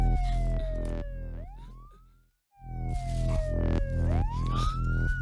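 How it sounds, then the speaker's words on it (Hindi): An ambulance siren wails loud and close in a rising and falling sweep, cuts out briefly to near silence, then returns with the same swooping cycle and rumbling traffic noise underneath. "एम्बुलेंस की आवाज है।"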